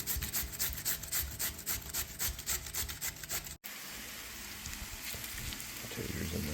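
Grated potatoes hitting hot olive oil in a pan for homemade hash browns, a series of rhythmic scraping strokes followed by a steady, dense sizzle and crackle close by.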